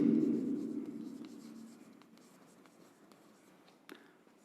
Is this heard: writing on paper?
yes